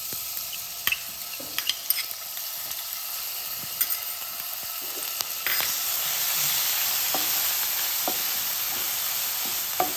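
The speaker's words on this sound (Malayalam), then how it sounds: "ഓയിലൊന്ന് നല്ലോണം ചൂടായി വരുന്ന സമയത്ത് ഇഞ്ചി, വെളുത്തുള്ളി, പച്ചമുളകെല്ലാം കൂടി ഞാൻ ചതച്ചതായത് അതും ഇതിലിട്ട് കൊടുക്കാം" Crushed ginger, garlic and green chilli dropped into hot oil, light ticks and taps at first, then the sizzle swells to a louder, steady frying hiss, no voices.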